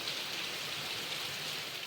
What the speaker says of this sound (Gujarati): જો અત્યારે વરસાદ ચાલુ છે ધમધોકાર.